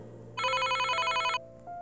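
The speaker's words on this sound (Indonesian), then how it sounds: "Dering ponsel yang nyaring berasal dari saku salah satu bodyguard di sana memecah suasana tegang itu." A mobile phone rings loudly in a short electronic burst of bright, rapidly pulsing tones, then stops, followed by a softer tone, over a quiet background hum in an audio novel scene.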